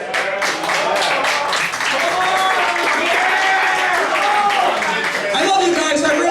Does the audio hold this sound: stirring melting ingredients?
no